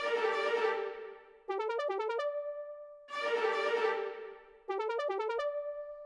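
A bright synth key phrase answers a sustained, descending lead note, with quick stepping notes after each long tone; the call-and-response pattern repeats twice.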